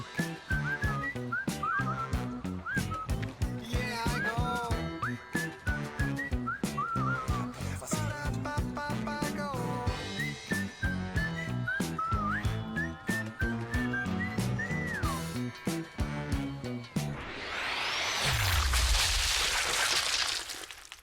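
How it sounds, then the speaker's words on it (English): A melodic whistled tune plays over a musical backing in the Sniper Elite video game, continuous and fairly loud, then gives way near the end to a sudden broad rushing burst like an explosion. "you've got to blow your whistle"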